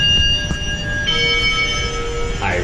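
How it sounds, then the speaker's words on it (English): A Schindler 3300 machine-room-less traction elevator in a parking garage in Sarasota sounds its chime, a clear two-tone electronic bell that rings and hangs, over the steady hum of the moving cab. Near the end comes a falling sweep. "I really like that chime"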